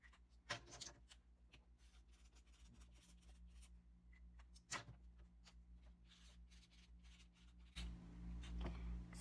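Days of the week are written onto a homemade cereal box calendar, faint close pen scratches and taps on cardboard in short irregular strokes, with a louder rustle of handling near the end.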